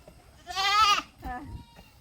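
A goat bleats twice, a loud wavering cry followed by a shorter, softer one, close by with faint background noise between.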